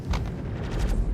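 Spaceship cannon fire in the space game Star Citizen, a slow series of dull booming shots rolling in a low rumble over about a second, with no talking.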